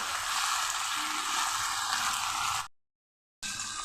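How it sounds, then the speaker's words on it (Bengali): Ground peanut paste frying in a pan, a steady hiss of oil sizzle that cuts out abruptly to silence for under a second, then resumes at similar loudness. "বাদাম বাটা। এটা একটু ভেজে নেব।"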